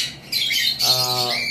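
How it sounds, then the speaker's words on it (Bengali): A red eastern fiery rosella parrot gives a sharp, harsh squawk followed by a longer rasping call, loud and close in a brief burst. "আমাদের কাছে আজকে রোজেলা রয়েছে, রেড ইস্টার্ন ফায়ারি রোজেলা যেটাকে বলা হয়"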